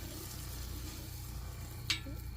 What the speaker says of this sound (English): We're going to melt this stick of butter.